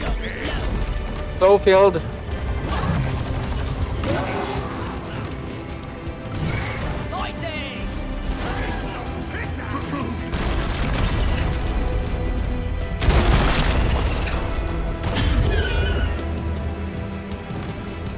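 Grenade blasts go off amid the gunfire and clatter of a Deep Rock Galactic mission, with a sharper burst near the end. Several players talk over the din throughout.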